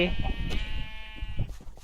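Sheep bleating in Minecraft, a drawn-out nasal bleat heard close under a person talking excitedly over it.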